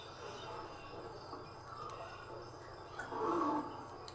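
Lions in the Zoo Tycoon video game growl and roar at each other in a low, rumbling exchange over a busy game soundscape, rising to a louder burst near the end.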